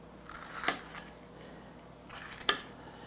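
A knife cuts through the side walls of bell peppers, making two crisp, close crunches about two seconds apart against a quiet background.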